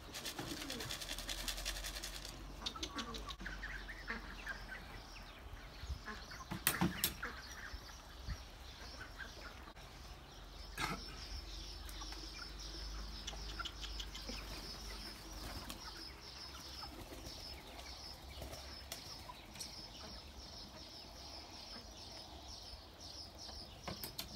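Pigeons in a newly built backyard loft, soft cooing and fluttering wing flaps over low background noise, with occasional sharper knocks and rustles from birds moving about inside.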